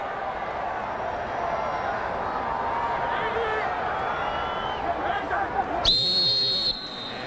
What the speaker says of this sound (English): And we get a whistle up front.